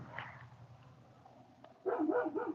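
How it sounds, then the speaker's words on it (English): Neighbor's dog barking in a quick run of harmonic barks near the end, moderately close, after a stretch of low background noise. "Neighbor's dog. Neighbor's dog."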